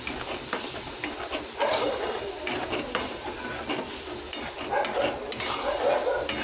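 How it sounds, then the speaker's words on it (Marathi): Ground masala with turmeric and coriander powder is stirred in a hot pan, with repeated scraping strokes over a soft, continuous sizzle and hiss. "मग त्याच्यामध्ये मिक्स करून घेते मी"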